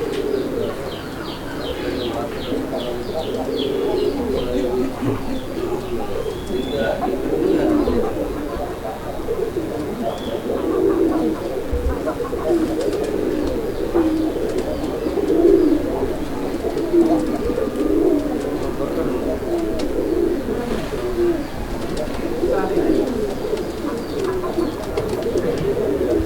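Pigeons in a pen cooing almost continuously, a close, throaty burbling that overlaps and repeats, with a few faint chirps and occasional quiet talk in the background.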